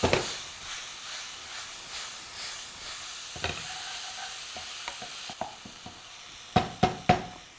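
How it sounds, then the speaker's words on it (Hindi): Chopped tomatoes with salt and chilli powder frying on high heat for khichdi, a close hiss and sizzle with a run of sharp stirring clacks and scrapes of the spoon against the pan, louder knocks toward the end. "टमाटर को हाई हीट पे हमने भूनना है"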